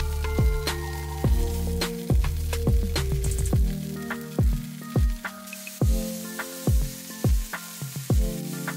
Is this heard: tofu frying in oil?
yes